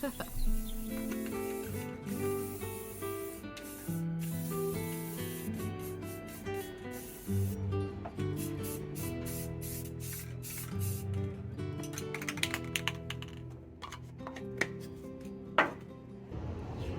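Aerosol spray paint hissing in short bursts over cosplay parts on an outdoor balcony, close and fairly quiet, set against steady background music with tonal layers throughout.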